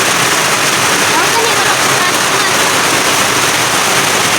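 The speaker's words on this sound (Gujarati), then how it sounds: "આવો મિત્ર વરસાદ આવ્યો છે" Rain falling steadily outdoors during the second rainfall of the year, a dense continuous hiss of drops close by that fills the whole stretch evenly without pause.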